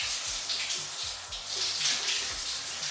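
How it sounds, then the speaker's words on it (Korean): A household shower head runs lukewarm water at lowered pressure for rinsing, producing a steady, close hiss of spray with small splashing thumps underneath. "샤워기 이렇게 틀고"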